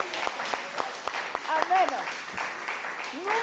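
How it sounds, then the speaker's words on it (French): A church congregation claps and cheers for mothers on Mother's Day, with a quick patter of claps and raised voices close by, while someone speaks briefly over the applause. "Est-ce que quelqu'un peut acclamer pour les mamans?"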